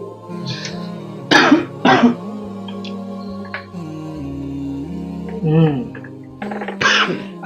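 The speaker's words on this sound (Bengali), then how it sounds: "আজ বেশ কয়েকদিন নিঃশ্বাস নিতে অসুবিধা হচ্ছে আর কাশি হচ্ছে।" A man coughs several times in a doctor's consultation scene from a Bengali drama, with a few harsh, close bursts spaced through the clip and talking around them.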